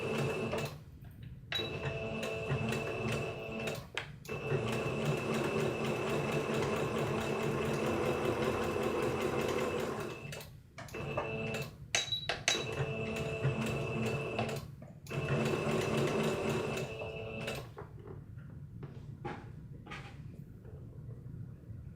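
A sewing machine chain piecing fabric squares for crafting, running in long steady mechanical bursts broken by short pauses, close and fairly quiet, with no talk.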